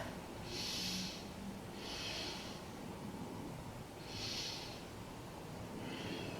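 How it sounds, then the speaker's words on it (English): Deep belly breaths during a beginner yoga session: four slow, airy inhales and exhales come at a steady, unhurried pace, close and soft, with no talking. "Let's take 3 breaths here. Breathe into the belly"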